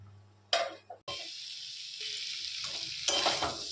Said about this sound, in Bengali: ভেজে রাখা চিংড়ি মাছগুলো দিয়ে একটু নাড়াচাড়া করে ঢাকা দিয়ে দিলাম